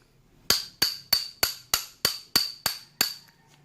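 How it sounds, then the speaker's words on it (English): Nine sharp metallic hammer strikes on a stuck brake caliper piston in a steady, even rhythm, close and ringing, with no talking. "this piston is really stuck, so try to hammer it out."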